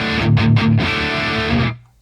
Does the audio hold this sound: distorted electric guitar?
yes